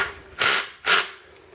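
A Ryobi One+ 18V cordless drill with its clutch set very low slips twice, giving two short, loud ratcheting bursts about half a second apart, with quiet between them.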